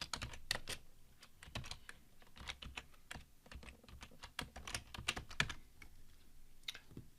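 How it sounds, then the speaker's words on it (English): Quick, irregular clatter of keys on a computer keyboard as operating system commands go into a command window, close and fairly quiet, with short bursts and small pauses and no talking. "I can then go through and type in operating system commands."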